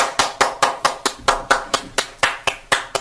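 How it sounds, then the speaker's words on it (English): Steady, evenly spaced handclaps at a meeting, about a dozen sharp claps in a regular rhythm, close and clear with no talking over them. "Another round of applause."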